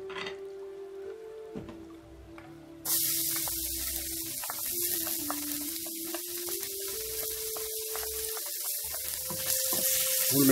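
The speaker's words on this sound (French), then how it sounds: "on va faire revenir d'abord l'ail que j'ai haché" Chopped garlic and ginger frying in olive oil, a bright steady sizzle that jumps up suddenly and continues hissing evenly, with a faint tonal hum beneath.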